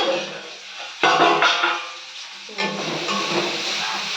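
Steam hisses in loud broadband bursts as the lid comes off a cooking pot of fried soybean and potato vegetables, with two sharp surges about a second and a half apart, each followed by a steady hiss.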